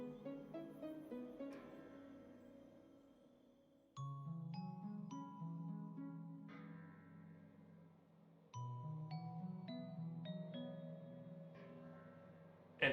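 Church bells tolling in a Minecraft world, two separate rounds of bright, ringing chimes, each starting with a sharp struck onset and decaying slowly with a long shimmering resonance.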